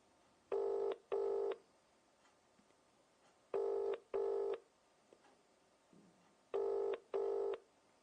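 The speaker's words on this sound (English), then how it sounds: "So let me ring that person back." A telephone call ringing out on a UK line: three clear double-ring bursts, evenly spaced with pauses between, heard alone and fairly close.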